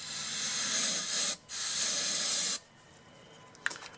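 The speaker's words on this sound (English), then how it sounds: "just spray a little starting fluid in here." Two loud hissing bursts of aerosol starting fluid sprayed into a riding lawn mower engine that won't start, the first about a second and a half long, a brief pause, then a second burst, followed by a faint clink.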